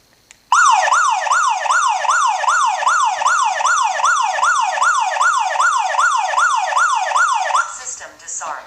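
A Staniot security system alarm siren at regular volume starts abruptly and wails in a fast rising-and-falling cycle, loud and close, for about seven seconds before cutting off.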